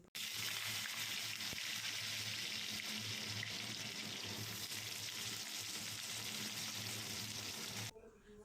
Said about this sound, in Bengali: ছোট ছোট করে আলু কেটেছি, আলুগুলো দিয়ে দেবো, দিয়ে ভাজা ভাজা করে